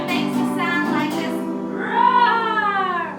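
A voice imitates a lion's roar in a childcare room for infants, a rising, drawn-out vocal growl that swells louder toward the end, preceded by a sung, pitched vocal phrase.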